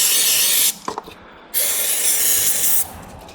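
Aerosol spray hisses in two loud bursts into a Hypertherm Powermax 45XP plasma cutter during cleaning, split by a short gap with light clicks.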